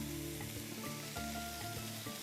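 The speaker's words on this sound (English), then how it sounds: "Hear that sizzle." Ground beef broken up in a pan without added oil sizzles steadily and loudly, with a dense frying hiss and faint stirring scrapes throughout, and no talk.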